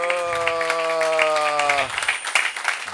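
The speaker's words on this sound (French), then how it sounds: "Give the Lord a better clap of." A church congregation claps hands in praise at a worship service, a dense wash of applause that swells and stays loud under a sustained musical tone, with sharp individual claps standing out as the music drops away near the end.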